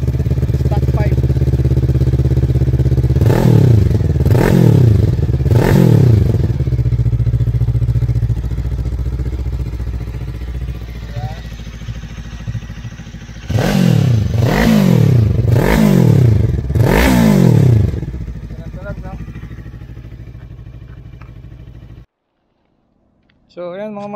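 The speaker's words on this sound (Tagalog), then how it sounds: "sound check natin yung tambucho niya" Fekon Falcon X400 400cc motorcycle exhaust, with two sets of three sharp throttle revs, each rising and falling, over a steady idle rumble. The engine sits close and loud, and a pause comes between the two bursts.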